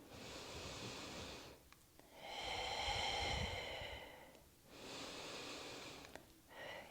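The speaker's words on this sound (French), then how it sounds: "Encore 2 respirations." Slow, deep breathing during a yoga practice: long audible inhales and exhales in an even rhythm, close and fairly soft, with short pauses between breaths and no talking.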